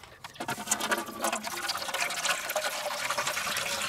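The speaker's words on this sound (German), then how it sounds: "nach vorne dann unsere Tropfschale. Die füllen wir mit Wasser auf." Water streams into the drip pan of a charcoal grill being set up beside the coals, a steady splashing, gurgling pour that runs continuously and close by for several seconds, with no voices.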